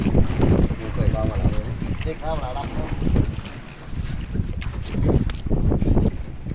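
Strong wind gusts buffet a fishing boat at sea off the Andaman coast near Krabi, roaring steadily into the microphone with thumping bursts, while voices are briefly heard beneath the noise.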